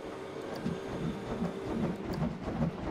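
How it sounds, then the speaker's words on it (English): A ride train in Planet Coaster rumbles along its track with a rhythmic clickety-clack of wheels and splashes through water, moderately loud and steady throughout, with no talking. "I love how the train causes the water to splash up there."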